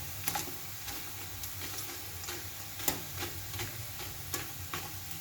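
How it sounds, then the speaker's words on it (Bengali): Papad frying in a pan of hot oil, a steady soft sizzle with scattered crackles and light stirring taps, fairly quiet and close, with no talking. "মনে করছি বন্ধুদেরকে একটু দেখায় পাঁপড় ভাজা"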